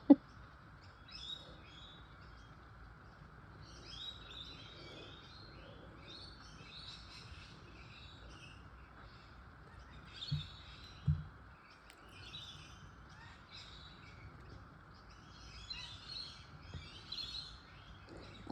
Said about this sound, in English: I'll let you enjoy the birds.